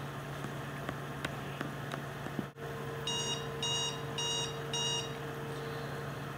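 Kitchen timer going off after two minutes on a nail-prep countdown: four short, evenly spaced bursts of rapid high beeping over a steady low room hum, moderately loud and close, with no talking.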